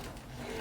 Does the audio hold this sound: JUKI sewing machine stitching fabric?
yes